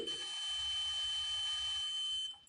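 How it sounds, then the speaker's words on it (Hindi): A multimeter in continuity mode gives a single steady, high-pitched beep lasting about two seconds while testing an inductor coil, then cuts off abruptly. "इसमें लगाने पर बीप की आवाज़ आ रही है"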